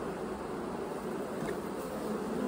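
Honeybees buzz steadily over frames of beeswax foundation in an open hive, a dense, close, continuous hum with no voices over it.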